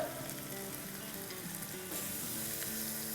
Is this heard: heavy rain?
no